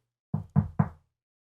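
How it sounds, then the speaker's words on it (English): Three quick knocks on wood, close and distinct, evenly spaced, then silence; no talking. "knock on wood"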